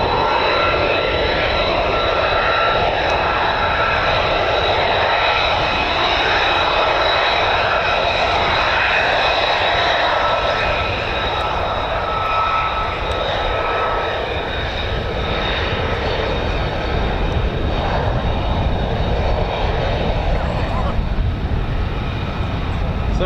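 US Air Force F-15 fighter jet engines running at RAF Lakenheath, a loud, steady roaring whine with high tonal whistling, continuous and close, with people talking faintly beneath.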